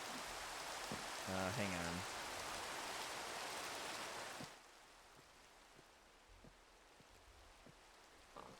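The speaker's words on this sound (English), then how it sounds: "I'm going to turn the rain down." Heavy Minecraft rain pours as a dense, loud, steady hiss, then abruptly cuts to near silence; someone briefly speaks over the downpour with faint clicks afterward.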